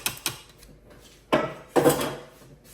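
Buttermilk cornbread batter is moved from a bowl into a skillet, with two light utensil clicks followed by two louder scraping clatters close by.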